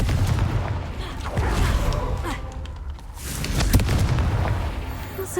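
A Confringo spell explodes in Hogwarts Legacy with heavy, rumbling booms, one blast near the start and a stronger one later, each trailing off into crackling debris over constant game noise.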